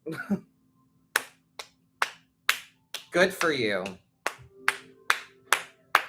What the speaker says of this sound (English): And then just like slowly walk away clapping.